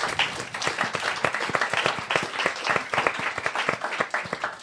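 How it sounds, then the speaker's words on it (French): An audience claps throughout at a feminist discussion event, dense and steady with sharp individual claps close by, fairly loud and without talk. "Vous pouvez applaudir."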